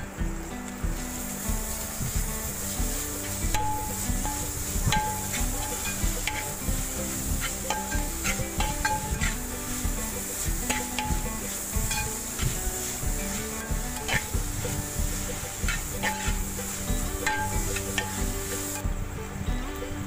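Crushed ginger and garlic frying with onion in a pan, with a steady sizzle and scraping stir strokes going on throughout.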